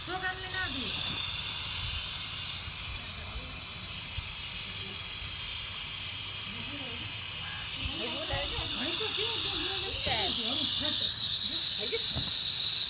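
A steady, loud hiss of gas escaping from a cylinder after a blast runs the whole time, with a high whistling tone rising near the end and people talking over it.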